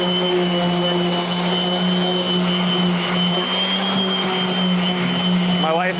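A Festool sander grinds steadily along the rail of a wooden skateboard deck, a loud, continuous whirring drone with a constant pitch that holds unbroken for the whole stretch.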